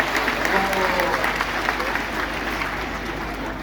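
A circus crowd claps steadily for a few seconds, the applause fairly dense and even, fading slightly toward the end.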